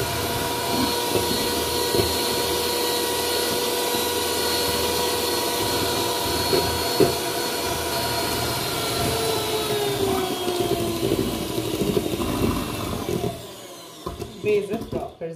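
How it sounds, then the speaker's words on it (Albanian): Electric mixer beating eggs, a constant high motorized whine running for most of the stretch before it stops abruptly near the end, followed by a few scattered knocks. "i përzina pra me mikser vezet derisa të bëhet një mos homogene ose kremoze"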